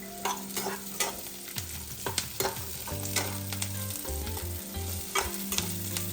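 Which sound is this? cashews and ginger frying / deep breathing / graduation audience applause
cashews and ginger frying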